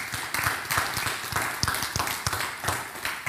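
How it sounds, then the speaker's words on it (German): Audience applause at the end of a German talk about Nazi victims labelled asocial, a dense, steady wash of clapping from a seated crowd, mid-distance and fairly loud, with no speech over it. "Da können wir mal klatschen dafür."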